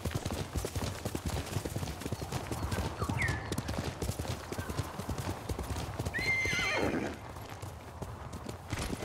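A horse in the game Ghost of Tsushima trots with steady clip-clop hoofbeats, then lets out a loud whinny midway before the hooves carry on.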